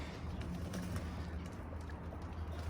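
Pigeons in a loft being let out before cleaning, with soft low cooing under a steady ambient murmur, continuous and fairly faint.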